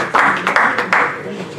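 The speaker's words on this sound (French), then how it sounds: "Des applaudissements, s'il vous plaît" Applause at a press conference comes in a few short, loud bursts of clapping, separated by brief pauses, and fades toward the end.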